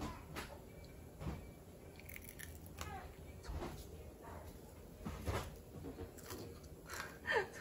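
A child bites into and chews crispy oven-roasted potato pieces close to the microphone, making repeated crunches and soft chewing sounds at irregular intervals in a quiet room.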